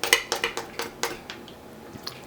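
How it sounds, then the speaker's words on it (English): A knife scrapes the breast bone of a pheasant, making several short, close, crisp strokes in an uneven rhythm that fade toward the end. "you're going to scrape that off and expose that bone"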